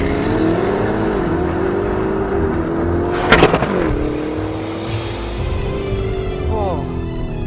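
A 2019 Lamborghini Urus supercar crossover launches hard from a standstill, its engine roar rising steadily and staying loud and close, with a sharp burst of noise partway through and a pitch shift near the end.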